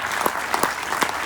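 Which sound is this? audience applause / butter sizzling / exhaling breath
audience applause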